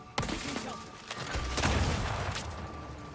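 Long-range gunfire in Outer Worlds 2: several sharp, separate shots cracking out at uneven intervals, with a deeper booming rumble swelling in the middle, no talk.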